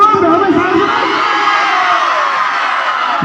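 A large outdoor crowd cheering and shouting together in a loud, sustained roar that holds steady and close throughout.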